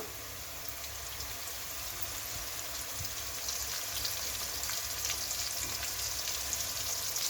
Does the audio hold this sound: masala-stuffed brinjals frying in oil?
yes